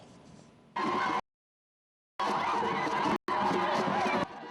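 A crowd in Bouaké cheers and chatters loudly for the Prime Minister in bursts of roaring noise, broken by abrupt silent gaps.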